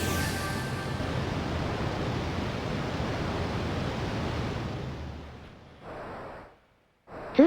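Steady broadband roar of a waterfall in the Panzer Dragoon Saga game, loud and continuous for several seconds before cutting off, followed by a couple of short bursts of similar rushing noise.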